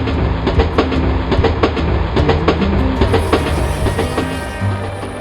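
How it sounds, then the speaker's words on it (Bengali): A train rolls along the tracks, its wheels clattering in a steady rhythmic clickety-clack, close and loud, with no voices. "ট্রেনের ঠকঠক আওয়াজ"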